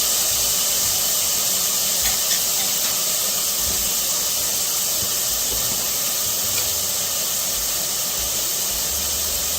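Chopped onion frying in olive oil in a pan for saffron rice, a steady, fairly loud hissing sizzle that holds evenly throughout with faint clinks of stirring.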